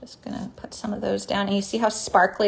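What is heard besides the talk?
None of the usual background noises is heard.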